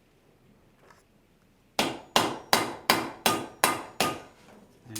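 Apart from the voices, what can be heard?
hammer striking steel on anvil, forging a horseshoe heart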